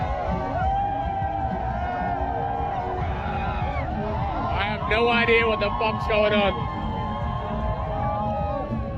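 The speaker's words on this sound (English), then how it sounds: "there's a bunch of runners and then a bunch of people cheering them on" A street crowd in Bogota, Colombia, cheers on marathon runners with scattered whoops and shouts that swell midway, while someone talks close by over the crowd noise.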